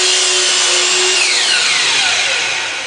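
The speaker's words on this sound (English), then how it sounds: "Going to start the saw in the fold up position." A miter saw spins up with a loud whine, starting in the folded-up position, and its motor pitch sweeps as it runs and cuts material, close and steady throughout.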